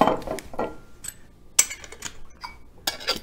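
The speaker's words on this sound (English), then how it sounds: "Now I'm going to shake, not stir." Ice rattling in a cocktail shaker as a Vesper martini with Lillet is shaken, giving a few irregular clinking, rattling bursts that rise and fade, close and fairly loud, with no talking.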